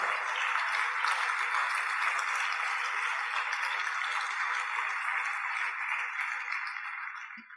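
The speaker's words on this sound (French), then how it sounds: "Je vous demande de les applaudir et d'applaudir aussi leur famille qui leur permet de s'investir autant." Sustained applause from an audience at a 2023 New Year wishes ceremony, steady and fairly loud for several seconds before fading out at the end.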